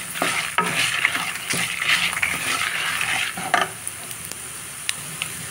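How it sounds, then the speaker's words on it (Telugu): Spices fry for gongura pachadi, sizzling steadily while a utensil stirs and scrapes in the pan with repeated clinks. "ఇవన్నీ వేగిపోయాయి."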